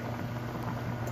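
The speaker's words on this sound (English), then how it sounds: "Our potatoes have come to a boil" Pot of potatoes boiling in water for a seafood chowder, a steady bubbling and gurgling wash with no breaks, close and moderately loud, with nobody talking.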